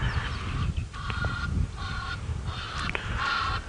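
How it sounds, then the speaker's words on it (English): Egyptian geese honk repeatedly at dawn in an African safari setting, a run of harsh nasal calls in uneven bursts, fairly close and loud over steady outdoor ambience. "Even though the Egyptian geese are making a bit of a noise, they're not too worried about it at all."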